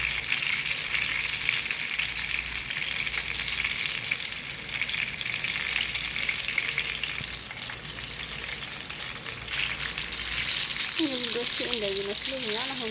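Lentil sambusa frying in hot oil gives a steady close bubbling sizzle throughout, with a person speaking near the end.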